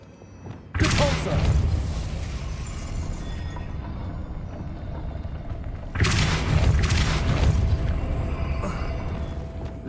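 Two heavy booming spell blasts of Depulso, the force-push spell in the Hogwarts Legacy video game, each a sharp broadband burst at about 0.8 and 6 seconds followed by a rumbling, sustained tail.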